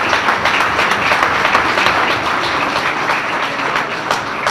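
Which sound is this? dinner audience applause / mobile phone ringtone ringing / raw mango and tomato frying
dinner audience applause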